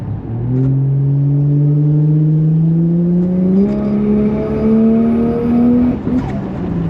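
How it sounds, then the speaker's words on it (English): A Toyota Chaser's engine revs through its exhaust, the pitch climbing steadily in a long loud pull and then easing off, with a brief hiss near the end. "It sounds so fucking good in every single way. The exhaust, the blow off."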